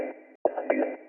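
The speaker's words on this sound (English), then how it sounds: "It would sound bit crushed and distorted like this, and I actually liked it." A bit-crushed, distorted glitch from Ableton warping in a deep progressive house production, a harsh buzzy tone that cuts out briefly and returns with stuttering bursts.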